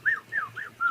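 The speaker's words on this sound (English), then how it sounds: "the black-backed puffbacks don't do the typical call that we hear up here, but instead they just go" Four quick, high, whistled notes from a black-backed puffback, the Eastern Cape variant of its call, each a short clear sweep spaced evenly within a second, close and distinct over a faint low background.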